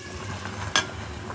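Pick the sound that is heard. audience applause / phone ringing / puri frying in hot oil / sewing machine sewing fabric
puri frying in hot oil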